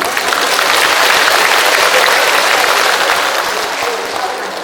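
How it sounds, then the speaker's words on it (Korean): Steady, loud applause from an audience at a senior citizens' festival ceremony, a dense wash of clapping that holds evenly for the whole stretch and eases off slightly at the end. "힘찬 박수 부탁드립니다"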